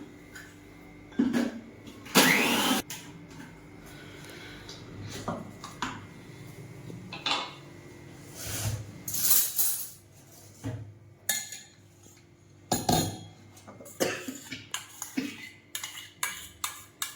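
Green chillies and garlic cloves being ground in a kitchen, with intermittent clattering, clinking bursts of varying loudness spread unevenly through the stretch, no talk.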